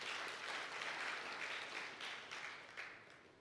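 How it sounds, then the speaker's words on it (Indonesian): Church congregation applause during a New Year sermon, a quiet wash of clapping heard from a distance that gradually fades out. "Tepuk tangan untuk Tuhan."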